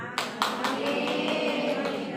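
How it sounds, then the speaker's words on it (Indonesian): Audience clapping at an Islamic women's study gathering led by a preacher, several loose claps under a steady room murmur with faint voices, short and fairly quiet. "Tepuk tangan ada nanaon."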